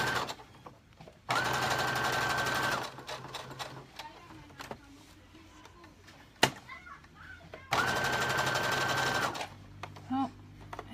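A sewing machine stitches around the edge of a bra cup in two sustained bursts of rapid whirring, close by, with quiet handling sounds and a brief sharp knock between them.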